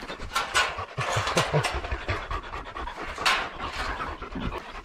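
A dog panting rapidly and loudly in quick rhythmic breaths at close range, with a low engine-like hum underneath, in a yard where a porcupine turned up.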